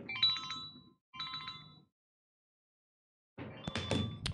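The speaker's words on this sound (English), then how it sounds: "God, I forgot to turn off my phone." A mobile phone ringtone goes off in a lecture hall, playing two short bursts of bright electronic tones, then a pause, then a denser, louder burst of ringing.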